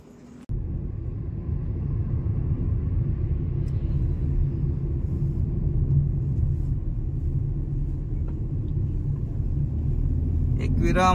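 Auto rickshaw ride with a steady, loud engine rumble running close and unbroken from start to finish, after a brief quieter moment at the very beginning.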